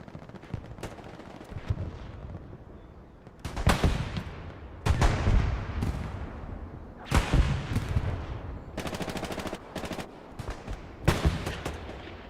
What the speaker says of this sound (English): Carl does get him with the grease gun.